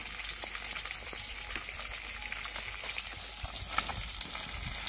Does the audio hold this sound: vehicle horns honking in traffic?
no